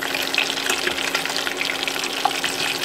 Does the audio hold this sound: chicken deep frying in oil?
yes